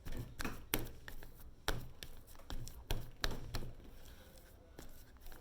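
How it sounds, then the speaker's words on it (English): Boiled potatoes being mashed, heard as a series of soft irregular taps and thuds of a utensil pressing into a bowl, quiet and close. "I'm going to mash my boiled potatoes"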